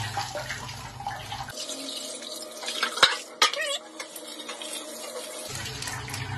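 Charcoal for a betta fish tank rinsed under running tap water in a sink, steady splashing that stops midway with a couple of sharp clinks, then water resumes.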